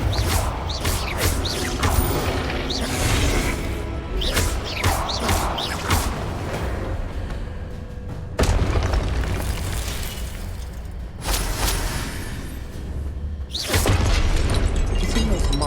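Magical blast explosions from Confringo spells in the Hogwarts Legacy video game: repeated loud booming bursts over a dense, continuous rumbling game soundscape, with several sharp impacts.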